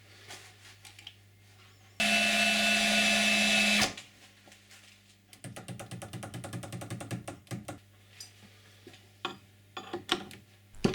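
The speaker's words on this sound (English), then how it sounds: "This blue button sends the router lift all the way to the top" An automated router lift on a router table drives its spindle up to the top park position, a loud steady motor whine for about two seconds, then a burst of rapid mechanical ticking and clicks, near and without talk.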